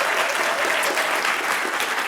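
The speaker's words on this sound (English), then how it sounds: "give the community a round of applause" A crowd at a community celebration session gives a steady, dense round of applause, mid-distance and unbroken, with no voices over it.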